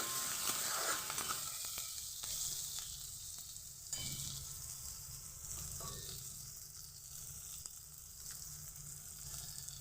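Onions frying in mustard oil for a Bengali sim (flat bean) dish, a steady close sizzle with occasional stirring scrapes and no talking.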